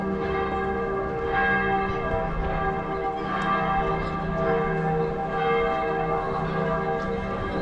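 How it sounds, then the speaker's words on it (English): Church bells peal over Munich at midday, a dense, steady wash of overlapping rings with continuous resonant tones filling the whole stretch, fairly loud and with no talking. "And the bells are ringing."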